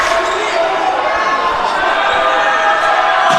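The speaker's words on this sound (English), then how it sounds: "A lot of noise from the crowd." Loud, steady roar of a crowd filling a gym during a boys varsity volleyball sectional semifinal between Cicero-North Syracuse and Fayetteville Manlius, a continuous wash of noise with an announcer talking over it.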